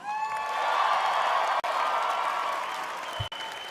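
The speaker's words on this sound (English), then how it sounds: "So let's hear all that applause tonight." A large pageant audience applauds and cheers, a dense continuous roar of clapping with scattered whoops that stays loud throughout.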